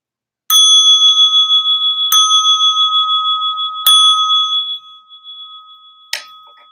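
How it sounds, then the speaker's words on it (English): Meditation bell struck three times in slow succession to close a chanting session, each strike ringing out with a long, pulsing metallic sustain that fades, followed by a faint final tap; no talking. "I'm going to ring the bell, and then we can say them together"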